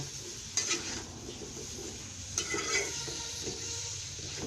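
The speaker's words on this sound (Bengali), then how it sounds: "এখন আমি তরকারিটা ঢেলে দিব দিয়ে ভালো করে নেড়ে ছেড়ে দিব" Fish curry with vegetable stalks, made with small tilapia, being stirred in a pan: soft scraping stirs and a few utensil clinks over a faint, low background sizzle.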